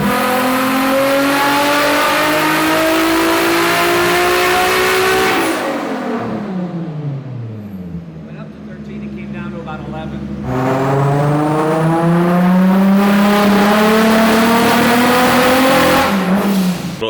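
1JZ-swapped Nissan Silvia engine on a dyno, revving loud and close through a rising pull, dropping back to idle, then climbing again in another hard pull.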